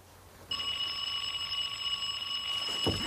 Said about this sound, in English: We'll press the bell.